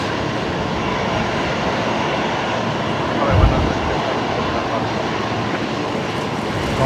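A Qantas Airbus A380 jet at Brisbane Airport gives a steady, loud broadband engine roar that holds throughout, with a brief low thump partway in and voices faintly over it.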